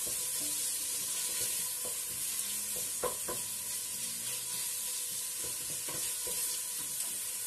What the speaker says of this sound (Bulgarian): Слагаме малко олио отси да се пържи месото,